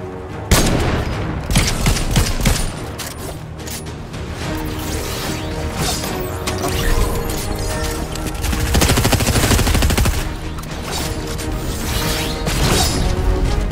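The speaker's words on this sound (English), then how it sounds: "The submachine gun is the go." Rapid submachine gun bursts in a shooter game, loud and close, rattling almost continuously with sharp cracks and impacts layered over busy game noise, with no pause across the stretch.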